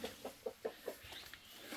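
Green-egg laying hens near a tipped-over feed bin give a quick series of faint, low clucks in an even rhythm, soft and close against quiet outdoor background.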